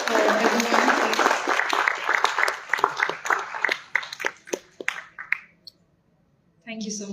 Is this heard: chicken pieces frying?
no